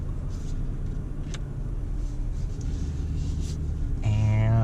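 A manual-transmission Jeep Gladiator climbs a hill with a steady low engine rumble heard from inside the cab, rising slightly as it accelerates, with a brief higher-pitched whine near the end.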